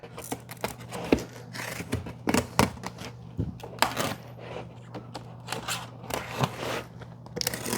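A large cardboard shipping box is sliced and torn open, giving repeated scraping cuts and crunchy rips of cardboard in uneven bursts, close and fairly loud, with faint voices mixed in.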